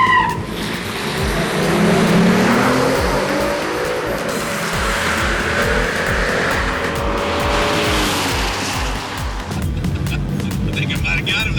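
A 1000-horsepower dragster runs down a drag strip, a loud roaring engine with squealing tires and rising revs, then fading rumble, with voices talking over parts of it.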